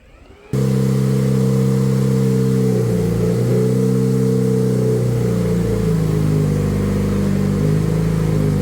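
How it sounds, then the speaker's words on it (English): An offroad vehicle's engine catches abruptly and settles into a loud, steady idle, with a couple of throttle blips rising and falling partway through, heard up close with no talking. "So I'll go ahead and have Naomi fire it up."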